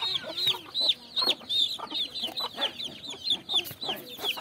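A hen clucks steadily and close while being held by hand, a rapid string of short, bright clucks with a few louder squawks and no talking.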